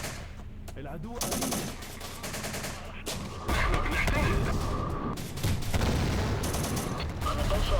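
Battle of Aleppo in the Syrian Warfare video game: dense bursts of gunfire and machine-gun rattle under continuous loud battle noise, with booms mixed in throughout.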